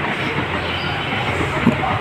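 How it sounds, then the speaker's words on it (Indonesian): The Argo Semeru passenger train rolls past behind its locomotive in fresh anniversary livery, a dense continuous rumble of wheels and carriages close by, with a brief higher squeal near the end. "Sekarang kereta api Argo Semeru. Ini dia lokomotifnya menggunakan livery yang baru."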